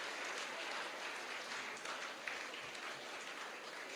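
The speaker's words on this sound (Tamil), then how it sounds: "இந்த கைத்தட்டல் எல்லாம் கிளாஸ் எடுக்கிறவங்களுக்கு." Sustained applause from a lecture audience clapping for teachers, a dense steady wash of many hands filling the hall throughout, with no voice over it.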